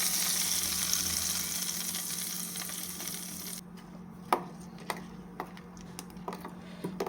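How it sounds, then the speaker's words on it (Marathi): Hot tempering with curry leaves poured into fresh coconut chutney, a loud crackling sizzle that dies away abruptly into quiet, followed by several sharp clinks and taps of a spoon stirring. "आता ह्याच्यामध्ये मी फोडणी घालून घेते"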